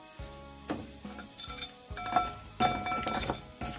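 Quiet, uneven knocking and clinking of a pestle pounding toasted rice in a mortar outdoors by rice fields, a few sharper hits in quick bursts, with no one talking.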